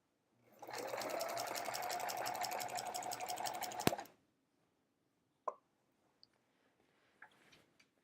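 A sewing machine quilting with metallic thread runs in one steady burst of rapid stitching for about three seconds, then stops, followed by a few faint clicks and taps.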